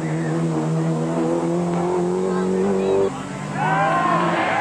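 A Peugeot rally car driven by Louise Aitken-Walker on a 1987 Circuit of Ireland stage roars past with a loud rising engine note, shifting gear and revving again, crowd murmur faintly underneath.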